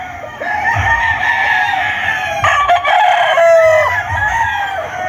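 Young roosters crow loudly and close by in long, overlapping calls that run almost continuously, with a few clucks mixed in and no talk.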